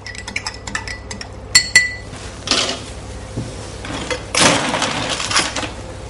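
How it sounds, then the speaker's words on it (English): A marmalade cocktail is stirred in a mixing glass, producing clear clinks of a spoon against glass followed by swishing, bright rattling sounds up close. "Now we're going to mix it a little bit to allow the marmalade to mix well in the drinks before we shake."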